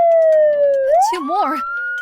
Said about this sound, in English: The sirens were getting closer.